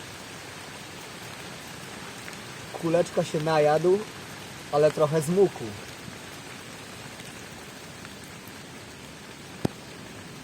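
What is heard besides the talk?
rain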